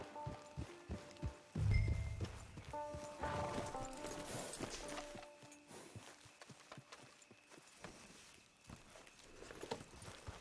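Horse hooves clip-clop in the video game Red Dead Redemption 2, a steady run of regular hoofbeats at moderate distance over soft sustained game music, with a heavier thump near the start.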